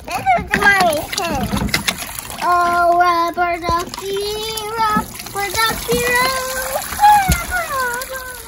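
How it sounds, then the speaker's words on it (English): Water tossed by hand and splashing in a summer stream, with scattered splashes and sloshing beneath lively, near voices of adults and children talking and calling out. "I'm gonna throw the water up over here."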